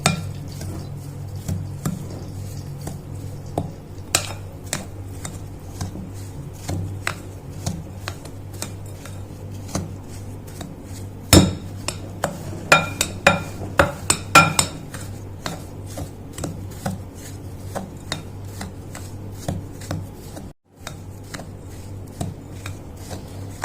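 Melted butter stirred into crushed biscuit powder in a bowl makes soft, scattered clicks and taps of a spoon against the dish, with a brief flurry of quicker scrapes in the middle.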